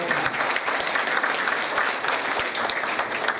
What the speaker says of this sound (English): let's give a quick round of applause for all our great grandparents